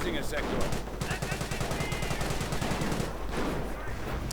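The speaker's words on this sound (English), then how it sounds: "Grenade going off among the British troops will certainly be able to do a bit of damage" A grenade explodes and gunfire crackles in a WWII strategy game battle, a dense loud rattle of rapid shots layered with blasts and a steady low rumble, with a voice talking over it.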